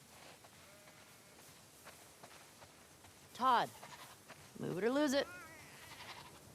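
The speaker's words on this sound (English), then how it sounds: "We definitely have way too many sheep." Sheep bleating in the video game The Last of Us Part II, two loud, wavering bleats close by over a quiet farm ambience, with a person talking lightly around them.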